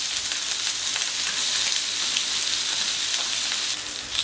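Snow peas sizzling on a hot plancha, a steady, dense, bright frying hiss that carries on evenly for a few seconds with no talking.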